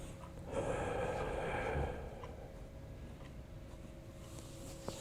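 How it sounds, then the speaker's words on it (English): Slow, deep breathing during a Wing Chun Siu Nim Tao meditation, a long breathy exhale rising then easing into a quieter, softer stretch of breath, close and alone without speech. "Just take deep breaths."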